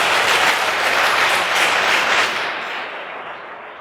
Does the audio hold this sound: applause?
yes